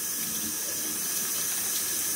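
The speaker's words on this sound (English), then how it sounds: "I pour a lot of this water off, and then the rest I put in the funnel" Soaking water from Thai sticky rice poured off into a strainer, a steady, close splashing stream that runs for a couple of seconds with no talk.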